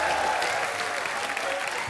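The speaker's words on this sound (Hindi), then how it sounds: "जोरदार तालियां।" Studio audience applause on a Hindi comedy show, continuous dense clapping filling the room at moderate level with faint voices underneath.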